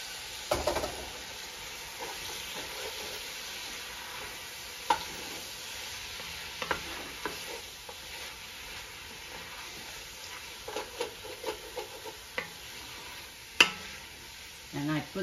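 Meat for Hungarian goulash sizzles steadily in a pot, a continuous close hiss broken by occasional clinks and scrapes of stirring, with no talk over it.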